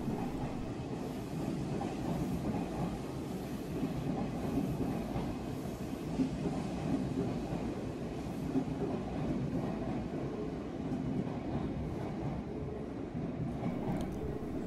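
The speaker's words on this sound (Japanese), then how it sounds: "さあ発車していった列車を見送っております。" A departing train rumbles steadily along the tracks toward Kitami, a continuous low roar with faint wheel clatter, sustained and fairly close throughout.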